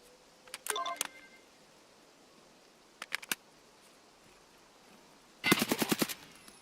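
Automatic gunfire in the video game Escape from Tarkov: a short burst near the start, a few quick shots around the middle, then a louder rapid burst near the end, with no talk over it.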